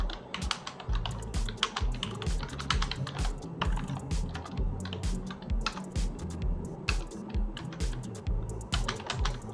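Someone typing code on a computer keyboard, a continuous patter of close, crisp key clicks in uneven bursts, with no talking.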